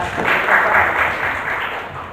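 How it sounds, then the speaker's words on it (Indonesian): Audience at a book discussion in the Brawijaya library in Malang applauding Mas Nasai, a steady wash of many hands clapping indoors that swells and slowly tapers off, with no voices over it. "Tepuk tangan buat beliau."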